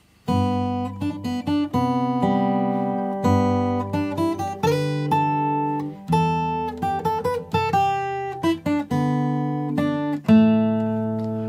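A clean nylon-string guitar plays a melodic line of plucked notes over low bass notes in 3/4 time, steady and unhurried, heard alone without talking.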